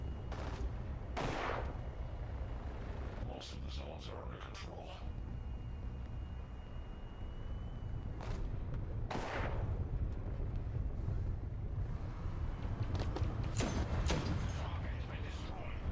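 Gunfire and cannon blasts in the War Thunder video game ring out as scattered sharp bursts over a constant low engine-like rumble, with voices at times.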